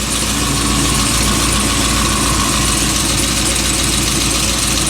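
Trans Am WS6 V8 engine running steadily at idle with an oil leak, loud and close, a constant rumble with no talk.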